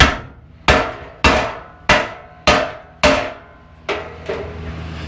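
Seven sharp, ringing hammer blows strike a pickup truck bumper in a shed at a steady, unhurried pace, each impact decaying briefly, with the last two softer.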